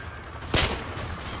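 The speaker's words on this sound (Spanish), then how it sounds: "No es normal los tiros que pega la USP de mi hermano." A USP pistol fired in Call of Duty 4: Modern Warfare, one sharp loud shot near the middle followed by fainter, softer bursts.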